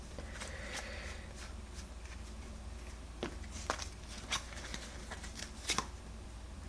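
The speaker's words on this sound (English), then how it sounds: "I'm shuffling again." Quiet riffling and snapping of a trading card game deck being shuffled, with scattered soft clicks and taps over a faint background hum.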